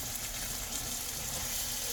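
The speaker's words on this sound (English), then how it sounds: "I love that sound. Sizzling. Got the onions going up in there." Steak and onions sizzling in a pan while cooking inside a van, a dense, steady hiss and crackle of frying juices filling the whole clip without pause, close and fairly loud.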